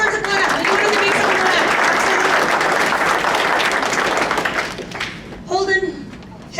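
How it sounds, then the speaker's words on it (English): A graduation ceremony audience claps in a loud sustained round of applause that gradually tapers off, followed by a voice speaking. "that deserves a clap"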